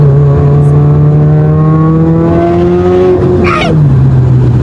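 A Subaru WRX STI VAB fitted with a rotated big turbo kit revs loud and close, its engine note holding steady then climbing before settling back, with a brief whoosh near the end.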